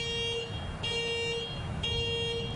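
Car alarm going off outdoors, a repeating electronic tone pattern with short pulsing bursts that cycles several times at moderate volume, with no talking.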